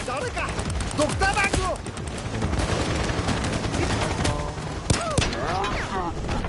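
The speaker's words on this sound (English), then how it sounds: "got a dozer up there, just shooting with a shotgun" Shotgun fire in the game Payday 2 during a firefight with a Bulldozer enemy, dense repeated gunshots over constant game noise, with game voices and other sound effects throughout.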